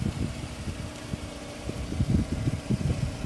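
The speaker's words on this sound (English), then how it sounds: "don't know if you can hear it running, motor sounds good." A used Ford car's engine idles nearby, a low steady rumble with light rhythmic mechanical pulsing that swells slightly toward the end, no voices over it.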